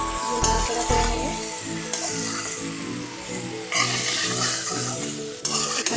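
Meat and bay leaves are stirred in a rice cooker for chicken biryani, with a steady sizzling frying hiss and scraping stir strokes. Close and fairly loud throughout, with no talk.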